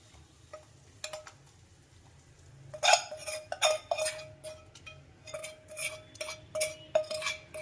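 A spoon scrapes and knocks against a pot while dal is stirred, with light clinks that start sparse and then come in a quicker, irregular run, close and moderately loud.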